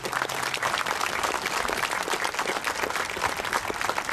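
Outdoor crowd applause at a Vietnam Moving Wall memorial ceremony in Yazoo City, steady dense clapping at a constant loud level throughout.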